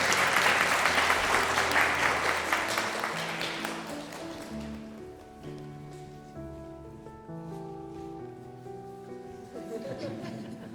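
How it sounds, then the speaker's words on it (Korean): Church congregation applauding during a Sunday worship service in Dortmund, a dense burst of clapping at the start that fades within a few seconds as organ or keyboard chords carry on. "뜨거운 박수 부탁드립니다."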